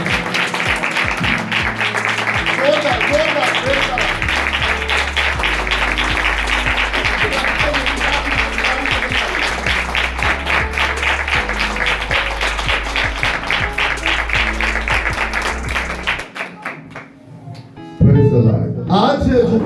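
A church congregation applauds at a New Year service, dense clapping sustained for about sixteen seconds before fading, with a voice speaking over it toward the end.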